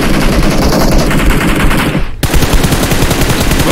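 Heavy automatic gunfire and artillery-style bursts in a competitive esports video game match: loud, dense and continuous, with a brief dropout about two seconds in before the barrage resumes.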